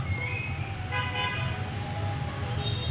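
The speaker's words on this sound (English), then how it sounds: "typical Hanoi noisy traffic outside" Car horns toot over a constant roar of heavy street traffic outside a hotel room in Hanoi, Vietnam, several overlapping honks heard from a little distance.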